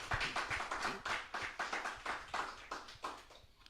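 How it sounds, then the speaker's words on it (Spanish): A church congregation claps in praise, a brisk rhythmic round of fairly close hand claps with slight unevenness, carrying on steadily for several seconds. "Den un aplauso al Señor"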